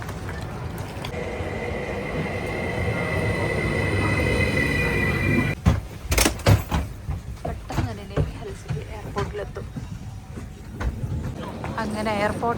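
A train rumbles into a station with a long metallic wheel squeal, then clanking and thumping of carriages as it slows, with some background voices.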